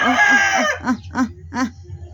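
Large chickens cluck close by, a rooster's crow trailing off followed by several short rhythmic clucks.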